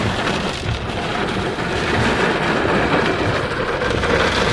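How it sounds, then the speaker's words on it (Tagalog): Heavy rain pours down at night in a steady, dense roar, loud and close, with a low rumble underneath and no voices. "Ngayon naman malalakas na ulan."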